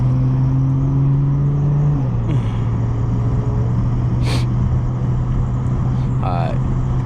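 A BMW 440i cruises on a highway in the Bronx, its engine a steady, loud drone with a pitch that dips and settles as it shifts, tire and road noise rolling underneath, and a brief voice in the cabin.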